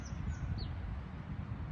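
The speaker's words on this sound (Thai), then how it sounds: "ให้ฟังเสียงนกร้องแล้วก็ดอกไม้สวย ๆ นะคะ" Faint, high bird chirps come through a steady outdoor background rumble among blossoming trees in England, a few short calls scattered early on.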